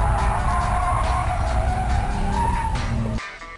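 A car slides into a drift after a yank of the e-brake, with a loud, steady roar of engine and scrubbing tires for about three seconds before the noise suddenly drops away.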